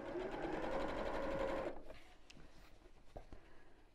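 A sewing machine stitches an evening bag, running in a steady, close buzz for about a second and a half before stopping, followed by quieter handling clicks and rustles of fabric.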